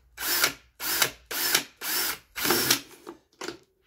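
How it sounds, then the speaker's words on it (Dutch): A power drill with a 10 mm bit boring a hole through the top of a DIY self-watering planter, running in about seven short close bursts of whirring with brief pauses between them. "So this is how we're going to quickly drill a hole in the top."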